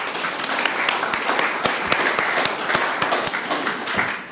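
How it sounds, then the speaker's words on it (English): A city council chamber audience claps for children who have just led the pledge, a steady round of applause with sharp individual claps standing out throughout. "Let's give them a round of applause."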